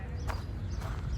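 Horse hooves clip-clop on the bridle path in Central Park, New York City, with two clear hoof strikes in quick succession over a steady outdoor hum and faint voices.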